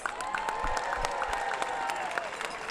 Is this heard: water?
no